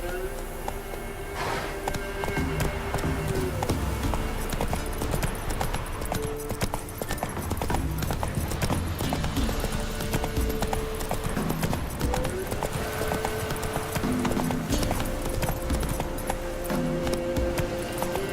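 Hooves clip-clop in a fast, steady galloping rhythm from a horse in the Witcher 3 video game, close and continuous over a constant backdrop of game music and ambience.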